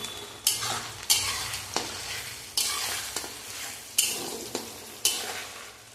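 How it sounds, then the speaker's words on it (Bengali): Onion frying with garlic paste in a pan, a steady sizzle broken by about eight regular scraping stir strokes of a spatula against the pan, close and clear with no talking. "রসুনটা পেঁয়াজের সাথে আর একটু ভেজে নেব।"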